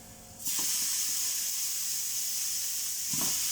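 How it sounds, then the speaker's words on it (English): Steaks hitting a smoking hot pan, a sudden loud hiss of searing that bursts in and holds steady, with a brief extra crackle near the end. "I've got a smoking hot pan now, and I'm going to chuck my steaks. So I'm going to sear these."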